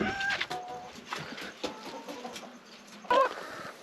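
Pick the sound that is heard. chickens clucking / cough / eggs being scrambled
chickens clucking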